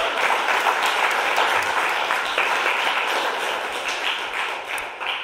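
Steady, dense applause from a concert audience welcoming the host at a Portuguese music event in Leipzig, loud and continuous throughout, easing slightly toward the end.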